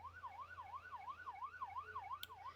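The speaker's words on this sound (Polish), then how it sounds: "O, chyba policja jedzie, bo słyszę." A police siren in the video game Polish Car Driving wails in quick rising and falling sweeps, sounding faint and distant over a low engine hum.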